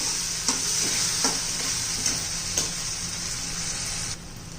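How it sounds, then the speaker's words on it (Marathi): Ginger chutney sautéing in a pan for a few minutes, a steady close sizzle with occasional sharp scraping strokes of a spoon against the pan, no voices. "चांगली आपण 2-3 मिनिटं परतून घेऊया, म्हणजे छान अशी टेस्ट येते."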